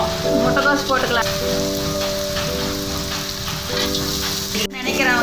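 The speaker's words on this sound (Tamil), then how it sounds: "வெங்காயம் பச்சை மிளகாலாம் அந்த கலர் மாறி நல்லா வணங்கணுங்க" Onion, green chili and cabbage frying in a pan give a dense, loud, even sizzle like hard rain, steady throughout with a short dip near the end.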